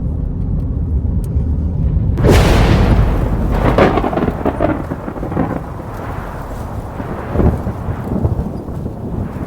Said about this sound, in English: It's actually raining right now.